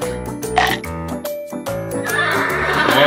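A ride-on toy horse gives a loud electronic neigh and whinny, a few seconds long with music-like tonal bursts, with little else in the way.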